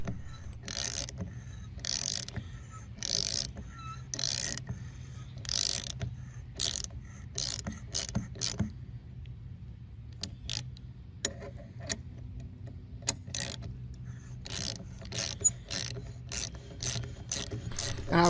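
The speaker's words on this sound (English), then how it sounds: "Screw it on until you hit a tight spot. Then use the ratchet to finish." Close ratchet clicks tighten a thread repair tool on an outdoor hose bib faucet, coming in repeated rapid runs with brief gaps.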